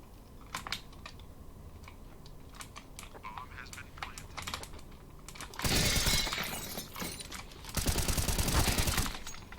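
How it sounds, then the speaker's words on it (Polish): Sharp crackling pops and bursts of game fireworks, scattered at first then building into two dense, loud volleys, with faint voices in the background. "Fajerwerki."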